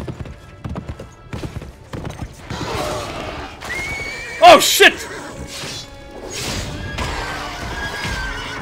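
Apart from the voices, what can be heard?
horse neighing and galloping in video game Lord of the Rings Conquest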